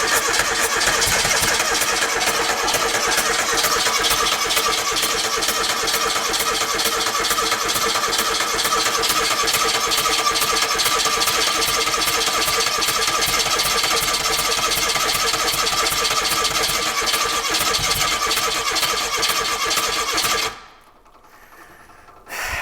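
A Grumman-Olson prototype mail truck, abandoned for twenty years, cranks on its starter in one loud, continuous, rhythmic whir for about twenty seconds. It then cuts out to near silence before a brief final burst, with no talking over it.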